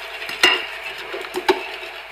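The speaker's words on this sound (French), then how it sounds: "Et 2 bonnes cuillères à soupe de crème fraîche épaisse. Et je mélange à nouveau." A spoon stirs a mushroom, fresh goat cheese and spinach tart filling with crème fraîche in a bowl, making soft close scraping and two sharper clinks against the side, with no talking.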